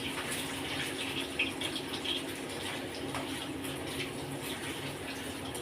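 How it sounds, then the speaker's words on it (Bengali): Paneer pieces fry in hot oil with a steady, broadband crackling hiss that runs evenly throughout, close by and moderately loud with no talking. "পনির ভাজা চলছে।"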